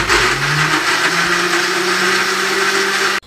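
Mixer grinder whirring steadily as it blends garlic cloves and a piece of ginger into a paste, loud and close, running continuously before cutting off abruptly at the end.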